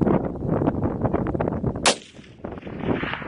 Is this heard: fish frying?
no